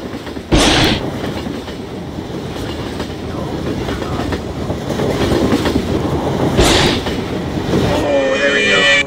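A train rolls steadily through a video game with nightmare animatronics, with continuous rumble and clatter, two sharp bursts standing out, and a voice speaking over parts of it.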